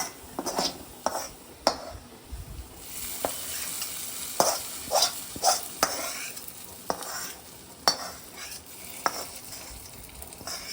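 Hot oil sizzles in bursts as fried onion is poured into a stingray curry and stirred, with sharp clinks and scrapes of a spoon against a pan.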